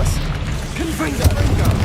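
Confringo fire blast spell cast in Hogwarts Legacy, booming low-end bursts under a spoken voice, with a sharper impact near the end of the short stretch.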